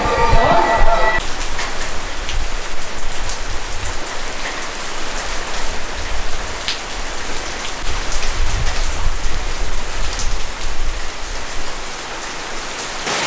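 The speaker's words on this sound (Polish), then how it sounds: "Ale leje straszliwie." Heavy rain pours down steadily on a hut on a Croatian hiking trail in a dense, constant hiss, loud and close, with a brief faint voice at the very start.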